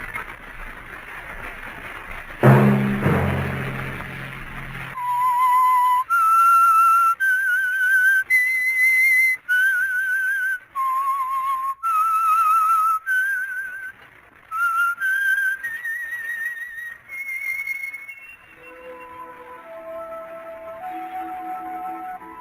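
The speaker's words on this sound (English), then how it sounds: "Let that whistle be your signal for the Whistler each Sunday night at the same time" A distinct whistled melody, the theme tune of the radio drama The Whistler, clear sustained notes rising and falling in phrases, preceded by a brief low burst and ending on a descending run.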